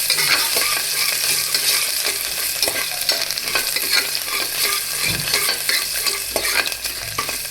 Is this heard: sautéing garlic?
yes